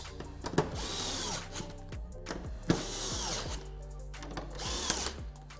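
A power driver tightening 10 mm bolts on a C7 Corvette undertray, several short whirring bursts with ratcheting clicks, each spinning up and stopping, close and fairly quiet.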